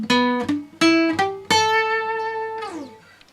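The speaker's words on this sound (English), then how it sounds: "I was playing an E pentatonic scale and I was muting the first root note" Electric guitar picking notes of an E pentatonic scale, with short palm-muted root notes followed by ringing, clearly pitched notes, the last one sustaining and sliding down as it fades.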